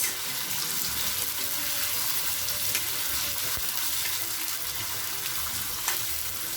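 Onions frying in hot oil with mustard seeds for a potato dry curry, a loud, steady, dense sizzle that holds without a break throughout.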